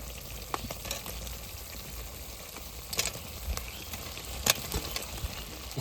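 Chicken pieces for chili chicken frying in a spice paste in a home kitchen pan: a steady close sizzle with scattered stirring clicks and scrapes, no talking.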